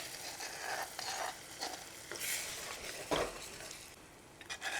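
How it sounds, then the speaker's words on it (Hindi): Gram flour batter poured into a hot mustard seed tempering for Rajasthani pithod saag, a loud close sizzle with stirring scrapes and a few sharper spatters. "अब वो जो आप बेसन घोल तैयार करियो वो डाल लूँ।"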